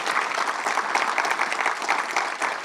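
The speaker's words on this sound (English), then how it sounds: "Yeah, clap it up, clap it up." An audience at an event on racial terror lynchings in Maryland breaks into loud, sustained applause, dense clapping from many hands filling the room evenly with no one speaking over it.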